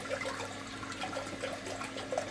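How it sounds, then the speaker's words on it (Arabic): Water is poured into a cooking pot in a home kitchen while making soup, a soft continuous trickle and splash that runs without pause for a couple of seconds, faint and close. "هنحط شويه ميه."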